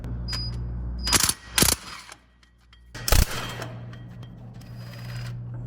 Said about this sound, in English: Long extension, wobble socket, and a cordless impact gun.